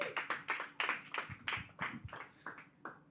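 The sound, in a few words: applause for a presenter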